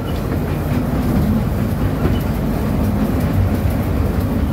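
A mini train rolls through overgrown jungle vegetation in Jungle Land park at Sentul City, Bogor, giving a steady, close rumble with faint clickety-clack along the rails throughout, with no voices.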